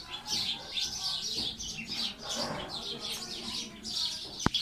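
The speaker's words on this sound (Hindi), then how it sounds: "अब मौसम कुछ अच्छा है तो उनकी आवाज़ें आ रही हैं चिड़ियों से" Several birds chirp and tweet repeatedly from a tree outdoors, a busy overlapping chorus close by, with a sharp knock near the end.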